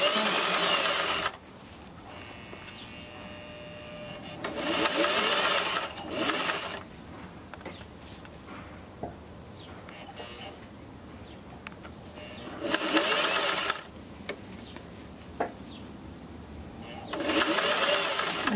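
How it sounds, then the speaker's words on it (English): Sewing machine stitching a collar band runs in four loud motor bursts of a second or two each, separated by quieter stretches with faint handling noises, and no one speaks. "And then we back stitch center front"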